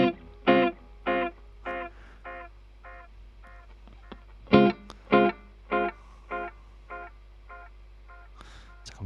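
Guitar run through the tape delay mode of a DemonFX Reverb & Delay Workstation pedal, giving a steady train of short distorted picked notes, evenly spaced and fading, with a faint wobble and small gaps between phrases.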